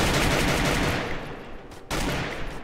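Rapid automatic gunfire from the battle royale game Free Fire, a dense continuous burst that drops off briefly before resuming loudly, with no talk over it.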